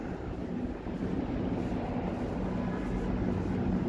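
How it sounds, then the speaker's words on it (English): A GO commuter train rumbles past in downtown Toronto on a snowy evening, a steady, fairly loud low roar that holds for the whole stretch with no speech over it. "No, it's a GO train."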